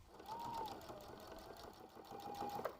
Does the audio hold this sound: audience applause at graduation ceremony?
no